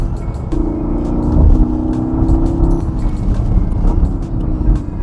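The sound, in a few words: Porsche Panamera GTS exhaust revving and popping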